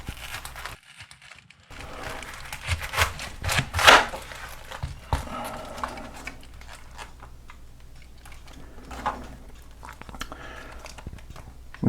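A knife slices a head of cabbage in half for coleslaw, giving crisp crunching and crackling cuts with a sharp burst in the middle, heard up close and without speech.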